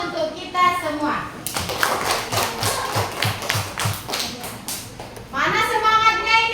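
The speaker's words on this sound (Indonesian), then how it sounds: "tepuk tangan untuk kita semua" Children in a classroom clap hands together in a quick rhythmic pattern of distinct claps, with a teacher and kids talking before and after.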